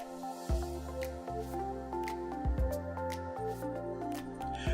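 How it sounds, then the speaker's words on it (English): A makeup brush is scrubbed back and forth across a wet silicone cleaning mat with shampoo, giving soft, repeated squishy, squelching strokes close up under a steady background hum. "run the brush back and forth or in a circular motion along the mat"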